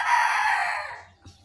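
A rooster crows once, loud and close, its long call holding steady then fading out, followed by a faint brief sound.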